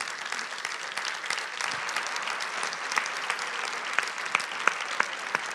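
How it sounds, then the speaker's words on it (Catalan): Applause from a conference audience rattles on for several seconds as a dense, moderately loud patter of clapping, with a few sharper individual claps standing out toward the end. "No cal aplaudir, no."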